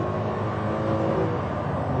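A Maserati MC12 at full throttle, a steady loud engine drone heard from inside the car, holding a constant pitch with no pauses.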